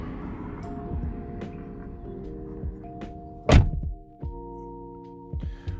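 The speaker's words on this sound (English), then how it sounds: "This is a pretty decent close. You don't want to slam your door anyway." A single solid 2016 Jeep Patriot Sport door shuts with a firm thunk amid steady outdoor traffic hum, followed by a few softer knocks.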